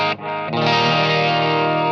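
Guitar played through a Strymon Brigadier analog delay pedal on its medium setting: a sustained, distorted, chorus-tinged chord with repeats smearing into a dense, continuous wash, loud and close, no voice.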